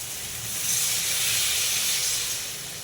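Water poured into a hot pan of spiced potatoes, letting out a loud steady hiss of steam that swells and then eases over a few seconds, close up with no speech.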